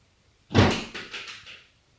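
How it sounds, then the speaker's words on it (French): A dog behind a door throws its big bone against it, giving one loud thud followed by a few softer rattling knocks that fade over about a second, close by and without talk. "mon chien qui est derrière la porte avec son gros os et qui n'arrête pas de le lancer contre la porte"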